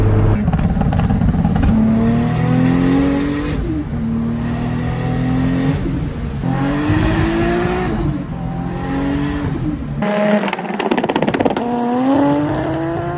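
Toyota Supra MK4 with a 1000hp+ 3.4L stroker 2JZ, Motec and 6-speed manual runs rolling anti-lag, its loud engine revving and climbing through gears with choppy, popping bursts that sound like misfiring, continuous and close throughout.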